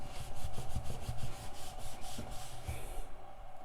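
Cloth rubbing across a leather traveler's notebook cover to lift dirt and dust before polishing, a close, steady run of soft scraping strokes in repeated back-and-forth rhythm.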